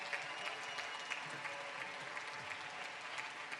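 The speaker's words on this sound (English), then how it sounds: "Let's give a big round of applause to our fifth grade semifinalists" An audience at an elementary school entrepreneurship awards ceremony gives steady, continuous applause for fifth grade semifinalists, a faint, even patter of many hands lasting several seconds.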